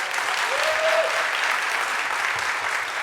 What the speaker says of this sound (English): Big round of applause for Nicole.